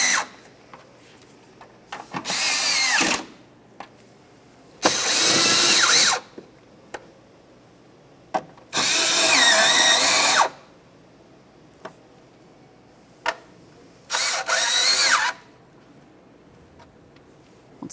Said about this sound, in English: Let's start snugging up the 10mm headed bolts on the end board side.